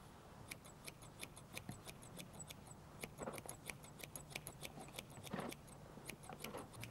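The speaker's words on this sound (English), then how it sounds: "Just snipping off the last few ends just to tidy the bottom of the forelock up." Scissors trim the ends of a horse's forelock in a quick series of small, crisp snips, quiet and close, repeating in uneven bursts with no talking.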